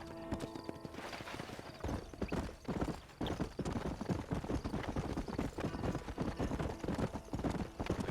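Horse hooves clip-clopping in a steady trotting rhythm while riding in Red Dead Redemption, close and continuous, with an occasional faint whinny and no talk over it.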